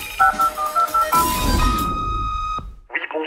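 Telephone keypad dialing tones beep in a quick series, followed by a ringing tone and a click as an answering machine picks up, leading into a brief burst of a voice at the end.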